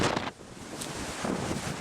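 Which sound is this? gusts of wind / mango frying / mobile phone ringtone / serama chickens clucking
gusts of wind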